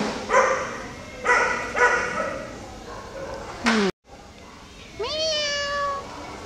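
A cat gives a few short cries close by, mixed with a person's voice that repeatedly imitates meowing and speaks to the animal.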